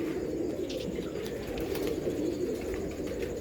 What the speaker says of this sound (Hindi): हमारे जो घर के अलमारी वाले कबूतर हैं ना